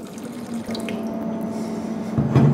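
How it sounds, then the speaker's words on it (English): Liquid calcium stock solution pours in a steady stream into a 1 liter jug, a close trickling rush that swells slightly near the end. "add 100 milliliters of the calcium stock solution into a 1 liter jug"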